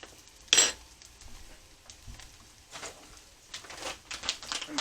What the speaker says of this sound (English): so I'm going to flip them around.